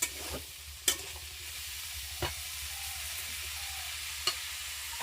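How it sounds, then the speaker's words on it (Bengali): Bitter gourd and potato slices fry in a pan with a soft, steady sizzle, broken by a few sharp clinks of a spatula stirring, close and without talk. "উচ্ছে আর আলু মানে উচ্ছে আলু ভাজা বসে দিয়েছে"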